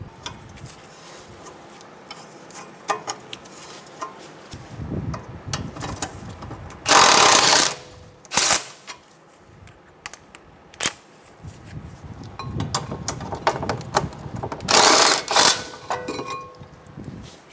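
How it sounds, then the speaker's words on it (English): Metallic ratcheting clicks and clanks of a 17mm wrench removing the brake caliper bracket bolts on a 2012-2016 Subaru Impreza, with a few loud bursts of clatter, no talking. "Using a 17mm wrench, I'm going to remove the caliper bracket bolts"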